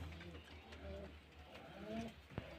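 Pigeons in a coop of single compartments give soft, low, repeated coos, faint and a little distant, with a small click near the end.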